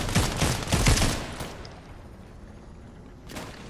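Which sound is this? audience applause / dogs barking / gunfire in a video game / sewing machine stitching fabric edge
gunfire in a video game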